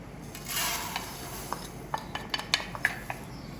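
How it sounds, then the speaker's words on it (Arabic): Dry vermicelli tipped into a hot pan with fat for Iraqi tajina, giving a soft rushing pour followed by scattered light clinks and scrapes of stirring, fairly quiet with no voices. "حطينا هنا الطاوة خليناها شوية تحترق وحطينا الدهن. هسه راح نضيف الشعرية"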